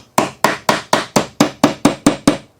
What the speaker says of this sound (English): So if I take my hammer